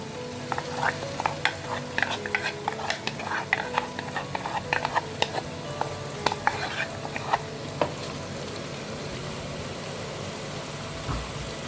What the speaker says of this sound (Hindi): इसको भी थोड़ा सा भून लूँ।